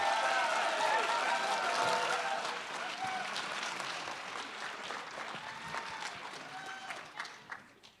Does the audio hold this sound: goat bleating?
no